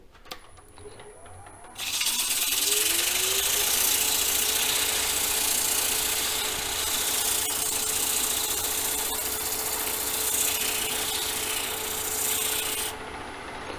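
Wood lathe starts up and spins a square bowl blank while a tool cuts into it, a loud, steady whirring roar with scraping texture that holds for several seconds before dropping away.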